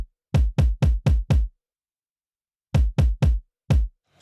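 Two layered kick drum samples fired together as one hit, sounding in a run of five, then after a gap three more and a last single, each a loud, deep, tight thump with a crisp attack, with no voices.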